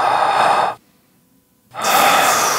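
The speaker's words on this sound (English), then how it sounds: "just take a breath." A person draws a deep breath: a broad, airy inhale lasting under a second, then a pause, then a second long breathy sweep, close and clear with no talking.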